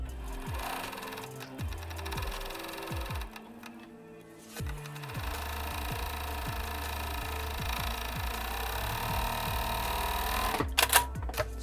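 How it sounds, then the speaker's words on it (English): A sewing machine stitches a hem along the top of a reusable fabric gift bag in steady bursts of rapid mechanical clatter, pausing briefly midway and ending with a few sharp clicks. "now what we gotta do is just put a hem on the end of the bag"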